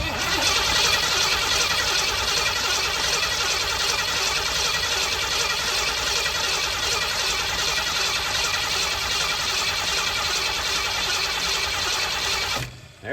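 A Ford 460 engine started with a screwdriver used as the key, running as a loud, steady, rough roar that holds for about twelve seconds and then cuts off abruptly near the end.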